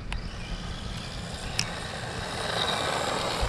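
A small brushed 1/16 scale RC car runs at full throttle, giving a steady, high-pitched electric motor whine with rolling wheel noise that builds slightly louder toward the end.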